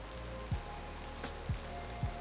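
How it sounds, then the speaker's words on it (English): Steady rain falls in a City Skylines 2 city, a soft continuous patter with a few brief low knocks standing out over the wash. "it's raining now as well"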